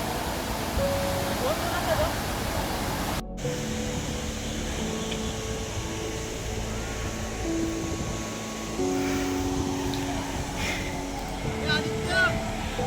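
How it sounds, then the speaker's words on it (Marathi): A steady rushing of falling water from Dhangar Waterfall in Badlapur fills the background, constant and moderately loud, with no voices over it. "धबधबा इथं."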